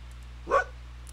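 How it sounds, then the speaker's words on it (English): A timber wolf avatar in the Second Life virtual world lets out a single short bark, quiet and isolated against a faint hum. "You can bark."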